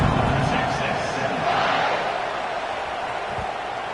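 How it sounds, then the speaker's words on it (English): A college football stadium crowd at a South Carolina vs Texas game keeps up a steady, dense roar and buzz before a kickoff, with a broadcast voice carrying over the noise. "this crowd is buzzing after that last score"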